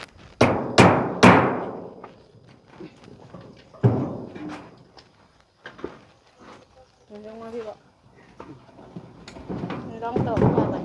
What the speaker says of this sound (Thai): ลองตอกเข้าไป